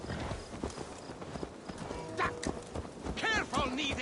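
Horse hooves clip-clop at a steady walking pace amid a busy PS4 game soundscape, with a brief whinny and voices in the background.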